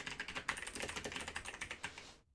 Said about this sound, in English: I keep typing in the wrong thing